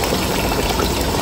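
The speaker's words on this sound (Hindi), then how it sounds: "ये 2 लीटर का केटल हमारा गरम पानी डाल दो, 2 लीटर पानी डालो 2 केजी चावल।" Hot water poured from a 2-litre kettle onto 2 kg of rice for biryani, a loud, close, continuous gushing splash without pause.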